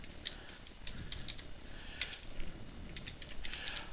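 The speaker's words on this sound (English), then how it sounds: "So usually if I just start typing," Someone types on a computer keyboard while entering a location into Google Calendar, giving a quick, uneven run of light clicks and taps close up, with no talking.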